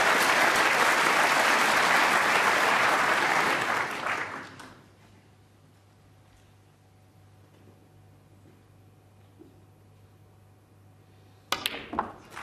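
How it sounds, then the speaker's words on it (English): Loud, sustained applause from a packed snooker audience after a century break, steady for about four seconds then fading out, leaving a quiet hall with a low hum and a brief burst of noise near the end. "warmly appreciated by the packed audience"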